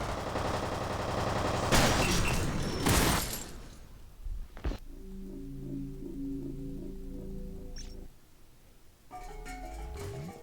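Enemy gunfire in the shooter game F.E.A.R. Perseus Mandate: a loud stretch of dense, rapid shooting with sharp bursts gives way to quieter game tones and ambience, then another burst near the end.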